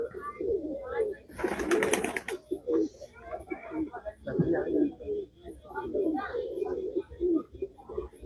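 Shahjahanpuri pigeons, an Indian breed, coo in soft, repeated low calls that run steadily through the clip, with voices talking over and between them.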